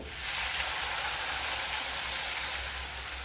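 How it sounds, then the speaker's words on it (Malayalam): A close, steady hissing pour of cow's milk into a pan, continuous and even for a few seconds with no voices. "ഇനി ഇതിലേക്ക് ഒരു ഗ്ലാസ് പാൽ ഒഴിച്ചു കൊടുക്കുക"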